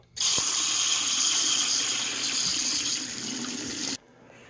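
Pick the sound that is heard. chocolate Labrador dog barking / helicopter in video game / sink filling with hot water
sink filling with hot water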